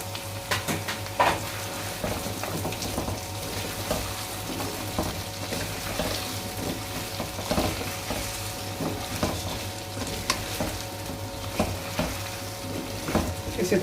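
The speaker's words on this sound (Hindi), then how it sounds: "इसे थोड़ा सा फ्राई करेंगे तकरीबन 4 से 5 मिनट" Taro root (arbi) fries in a pan with a steady, close sizzle throughout, broken by repeated scraping and stirring strokes of a utensil and light pan clinks, with no talking.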